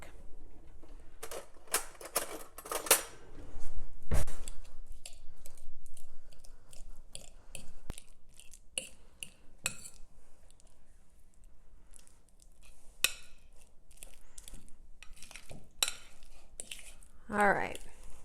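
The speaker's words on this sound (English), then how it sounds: "we're just going to mash this with a fork" A fork mashes avocado with seasonings in a bowl for guacamole, giving soft, squishy, irregular clicks and scrapes at close range, with occasional louder knocks against the bowl.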